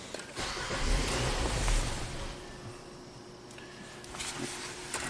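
A Nissan Sentra with its mass airflow sensor unplugged cranks and fires, its engine rumbling loudly at first, then settling into a rough, uneven idle at close range.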